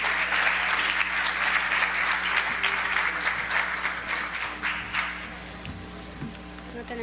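Audience applause at a presentation event, a crowd clapping steadily for several seconds, loud at first and gradually thinning toward the end, with a faint hum underneath.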